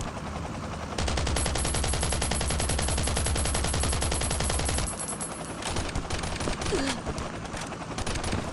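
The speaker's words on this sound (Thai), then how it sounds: "อันนี้ผมก็ใช้เป็นกระสุน AK นะครับ เพราะว่าใช้ปืน AK กระสุนเขียว" Rapid automatic AK rifle fire in the survival shooter Last Island of Survival, a loud sustained burst lasting several seconds, then scattered quieter shots and game noise afterward.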